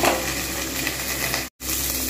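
Steady broadband sizzle of ingredients frying in a pan for vegetarian bhog khichuri, a continuous close hiss with faint stirring and a brief dropout near the end, with no talking.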